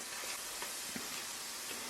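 Peeled bitter gourd skins fry in ghee with a steady, even sizzle and soft scattered crackles, close and continuous without any voices.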